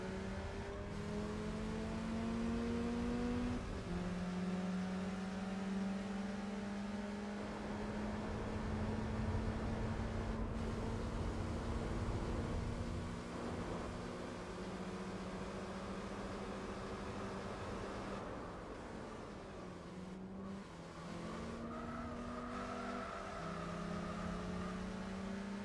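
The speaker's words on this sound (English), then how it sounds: "We're seeing how that little gritty engine works." An Audi R8 race car engine in the Gran Turismo 4 video game drones and revs continuously, its pitch climbing and falling through gear changes with a steady, gritty roar and no voices.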